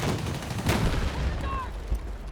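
Battlefield 6 gunfire in a multiplayer battle, a dense crackling of shots and distant booms filling the short stretch, with a brief whistling tone partway through.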